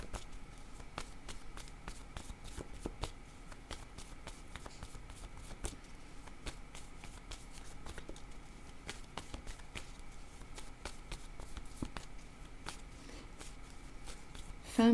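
Cards are shuffled steadily for a card reading, a soft continuous riffling patter with faint clicks running at an even level throughout, with no voices.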